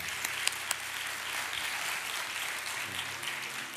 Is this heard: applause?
yes